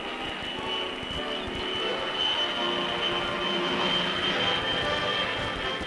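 A military reconnaissance plane from the Vietnam War era drones steadily in flight, a broad continuous engine roar holding at an even level throughout with no voices.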